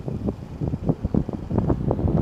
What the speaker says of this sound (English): Yes, indeed it's a windy day today